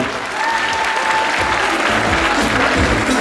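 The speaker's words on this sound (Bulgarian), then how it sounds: "Аплодисменти!" Steady, full audience applause at a Rose Queen beauty pageant in Karlovo, Bulgaria, filling the hall continuously with a faint tonal sound behind the clapping.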